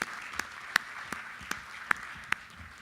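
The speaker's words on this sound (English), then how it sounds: "Please join me in just another round of applause for these three individuals for their time." Sparse, quiet clapping from a summit audience in a room after a panel, with a handful of distinct sharp claps standing out over a soft background hiss.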